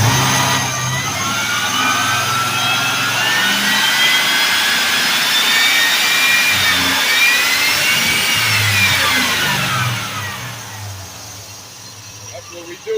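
A 1987 Chevrolet Suburban engine revs up close and loud, its high jet-like whine sweeping upward and then falling away as the revs drop, with someone talking over it.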